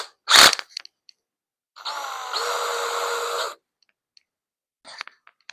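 A power drill fitted with a 2-inch T25 bit drives a screw in one steady whirring burst of about two seconds, close and loud, framed by a few clicks and handling knocks before and after.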